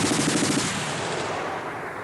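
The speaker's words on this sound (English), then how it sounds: "This gunfire that you can hear is pretty close." Close machine-gun fire near the South Korean Embassy in Saigon during a Viet Cong raid, a dense rattling stream of rapid bursts that fades slightly over two seconds, no talk.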